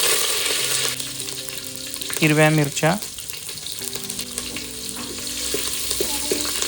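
Hot oil sizzles and crackles steadily with cumin, mustard seeds and curry leaves for dal tempering, close up, while someone speaks briefly over it.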